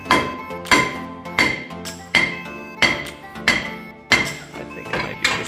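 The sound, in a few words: smacking a brake rotor loose on a Chevy Equinox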